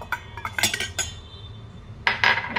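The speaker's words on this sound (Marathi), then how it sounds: "मिक्सरमध्ये भात टाकूया।" Cooked rice is scooped into a steel mixer jar for rice kheer, with a few quick clinks and scrapes of a spoon against metal, close and fairly loud, then a brief clattering burst at the end.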